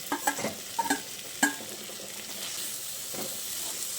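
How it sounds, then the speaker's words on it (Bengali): Drumstick flowers and fried potatoes with spices being stirred in a pan: a few sharp spoon scrapes and knocks early on, then a low steady sizzle, faint and close. "এবার সব কিছুকে আবারও ভালো করে নেড়ে চেড়ে মিশিয়ে নিচ্ছি"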